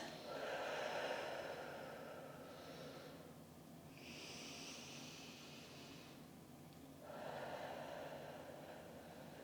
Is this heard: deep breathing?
yes